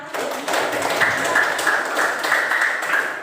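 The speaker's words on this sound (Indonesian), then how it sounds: "tepuk tangan dulu untuk kita semuanya" Group applause from a classroom of students, a steady dense clatter of many hands that holds at an even level for a few seconds with no talking over it.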